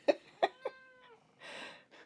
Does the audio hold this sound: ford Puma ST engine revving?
no